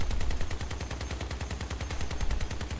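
Rapid machine gun fire in the vehicle combat game Crossout, a dense, continuous stream of loud, evenly spaced shots hammering a target.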